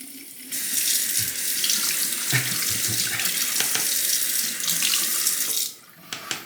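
Water runs from a tap to wet a straight razor before honing on a coticule stone, a steady close splashing stream that cuts off near the end, followed by a few small handling clicks.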